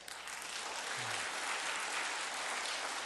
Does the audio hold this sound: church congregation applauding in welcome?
yes